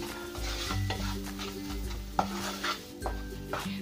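Spoon stirring powdered sugar into a thick sesame and mawa mixture in a pan for til laddu, with repeated scraping strokes against metal and a soft sizzle underneath, close and steady with no talking.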